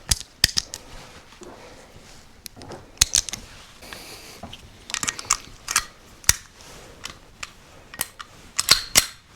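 Five Barnaul cartridges loaded into a rifle at a shooting competition: a run of sharp metallic clicks and clacks, irregular and close, with brief mechanical rattles between them and no talk.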